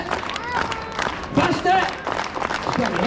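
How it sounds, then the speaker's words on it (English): Audience clapping along in unison for a street magic performer's card trick, a steady dense patter of many hands mixed with crowd noise and a performer's voice talking over it. "Everybody clap."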